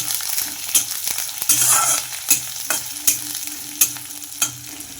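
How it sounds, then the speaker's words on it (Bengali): Onion and garlic fry in a pan, giving a continuous sizzle broken by sharp, regular spatula knocks and scrapes, loud and close with no voices. "এবার আমি এখানে পেঁয়াজটা দিয়ে দিলাম এবার এটা ভালো করে ভাজে নিয়ে তারপর টমেটো দেব"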